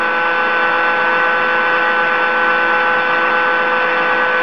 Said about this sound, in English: it's going to continue to run the vacuum pump for the maximum duration of 30 seconds to really pull that air out